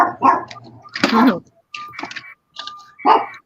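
A dog barks and yips in short, loud bursts nearby, some sharp and some whining, separated by brief quiet gaps.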